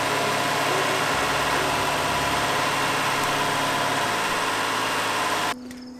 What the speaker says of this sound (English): I still wanted to run seafoam through the engine to get rid of any buildup and just really clean out everything